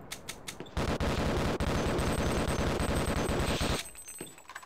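Rapid automatic gunfire in a Half-Life remake built in Unreal Engine 5, a few separate shots, then a sustained dense burst of close, loud rounds lasting about three seconds before cutting off.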